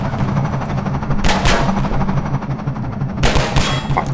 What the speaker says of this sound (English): Stop! You're shooting me!